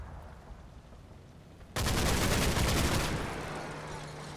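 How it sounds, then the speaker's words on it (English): Sudden burst of automatic gunfire from the night battle in the World War II strategy game Combat Mission: Battle for Normandy, a dense, loud rattle that cuts in over a low rumbling background, then fades slightly. "He's shooting back."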